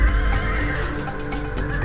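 A horse whinnies loudly and close, a sustained shrill neigh over low rumbling background noise, with no talking.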